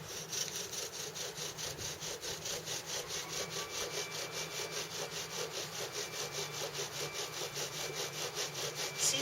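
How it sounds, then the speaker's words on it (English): A bow drill spinning a spindle into soft basswood, producing a steady rhythmic back-and-forth rasping with regular strokes about twice a second, close and fairly quiet, no talking. "It seems like such a waste to have all this drilling going on"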